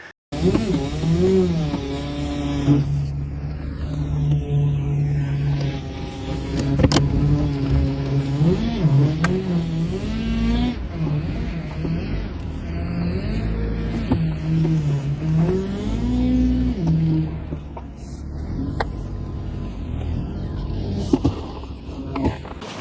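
A heavy Land Cruiser engine runs steadily for the whole stretch, its pitch rising and falling as it revs and shifts, loud and close with no talking.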